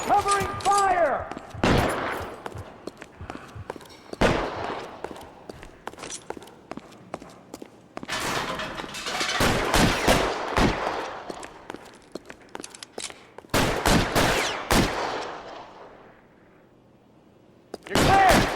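Gunfire in the crime game L.A. Noire, with repeated bursts of shots that break out in clusters across the scene, loud and close. Voices shout between the volleys.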